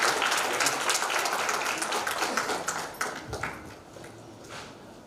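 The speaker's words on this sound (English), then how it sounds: "Let's give a round of applause for" An audience at a corporate people-and-process event in Mumbai applauds steadily, a dense wash of clapping that holds for about three seconds, then tapers to scattered claps and room noise.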